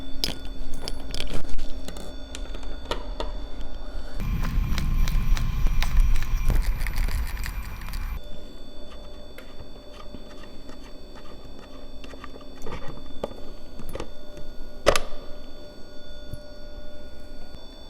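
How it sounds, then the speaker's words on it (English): A 12mm socket loosens the headlight nut on a 2013 Triumph Street Triple R motorcycle, with close metallic ticking and clicking and a louder burst of mechanical rattling partway through. "you can remove it with a 12mm socket, so I'm just going to do that right now"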